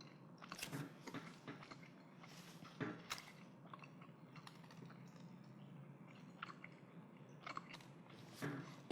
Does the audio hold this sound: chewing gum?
yes